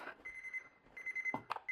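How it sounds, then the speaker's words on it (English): An oven timer buzzer sounds in a home kitchen during baking, a steady high electronic tone repeating in several bursts with short gaps, moderately loud and close, with a few faint clicks and rustles between them. "Our buzzer's going off. I'm going to turn it off."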